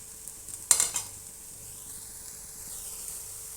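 Adai batter roasting on a hot pan gives a faint, steady low sizzle, with a brief clatter of a utensil early on and no talk.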